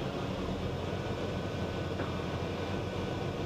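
Steady, dense engine and propeller drone from a brand new Cirrus SR22 Turbo airplane taxiing, a constant broadband roar heard from inside with no voices.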